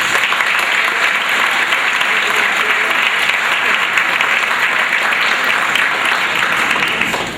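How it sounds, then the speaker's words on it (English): A crowd at a senior sports banquet gives the senior athletes a loud, sustained round of applause, dense even clapping that holds steady for over seven seconds before starting to fade. "we'll give them a nice warm welcome and applause for all our senior athletes"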